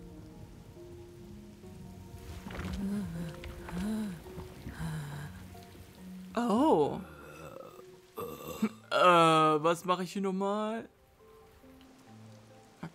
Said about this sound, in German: Und in Sekunden schnell ist der Regen wieder da.